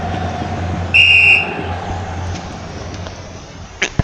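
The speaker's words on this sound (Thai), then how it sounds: "กรรมการเป่านกหวีดเริ่มเกมการแข่งขัน" A referee's whistle blows one sharp, steady blast to kick off a match in the EA Sports FC football video game, clear over a low crowd drone, followed by faint clicks.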